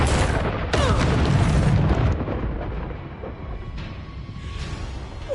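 Confringo spell explosions in the game Hogwarts Legacy: a heavy, booming blast swells and rumbles for a couple of seconds, followed by a fainter sharp burst and lingering crackle.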